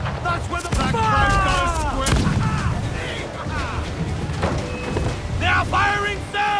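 Enemy ship cannons in Assassin's Creed IV Black Flag boom in a booming volley, with crew shouting over the blasts and creaking, whistling naval battle ambience.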